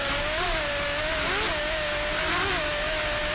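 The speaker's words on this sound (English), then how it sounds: "Just listen to those Lamborghinis." Lamborghini engines on offshore racing powerboats, including a 43-foot Douglas Superboat Unlimited, roar during the Miami Offshore Grand Prix, a loud sustained drone whose pitch rises and dips with throttle.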